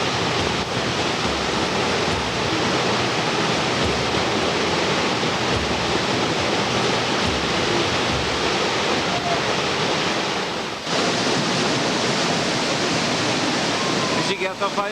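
A forest waterfall pours in a steady, dense roar that stays loud and unbroken throughout, with a brief dip near the end.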